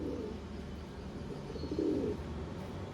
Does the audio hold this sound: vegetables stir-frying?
no